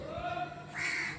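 A crow being fed from a plate gives a short harsh caw or two, brief and moderately close, with faint background noise.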